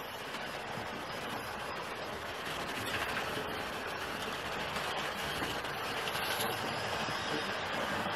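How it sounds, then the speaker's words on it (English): Hornby LSWR T9 4-4-0 model locomotive running over sets of points on a layout, a faint, continuous rolling rumble with light rattling clicks throughout. "there's sets of points which this locomotive is going over and making short work of"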